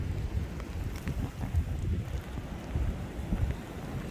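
Light rain falls on an icy road in Norway, a soft, steady patter mixed with faint wind noise, low and even throughout with no talking.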